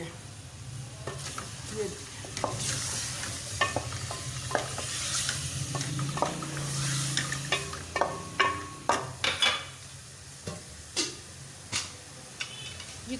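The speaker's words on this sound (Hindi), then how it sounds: "यहाँ पे हमारा चिकन तैयार हो रहा है, हम लोगों ने घी शामिल कर दिया है" Chicken frying in ghee in a pan, a continuous close sizzle broken by a run of sharp spatula scrapes and taps, with a brief word of speech at one point.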